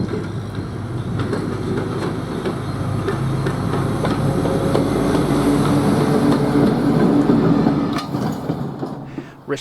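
A restored Edwardian railcar fitted with a Cummins diesel generator and traction motors, rolling with a loud, continuous rumble and rail clatter that swells and then eases toward the end.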